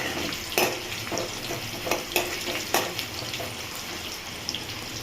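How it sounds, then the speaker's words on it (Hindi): Steady sizzling of whole spices and garlic frying in hot oil, with scattered clinks and scrapes of stirring in a pan, close and fairly loud. "ये देखिए, खड़े मसाले और लहसुन मैंने डाल दिया।"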